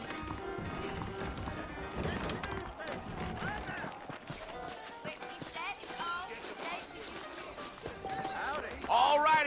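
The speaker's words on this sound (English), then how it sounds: "I got the horses saddled up and ready out front" Horse hooves clip-clopping at a trot over ground in Red Dead Redemption, with people talking over the rhythmic hoofbeats and an occasional whinny.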